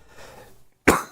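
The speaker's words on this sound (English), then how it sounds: "you may hear a little extra coughing today" A single sharp cough rings out close and loud near the end, after a stretch of quiet breathing noise.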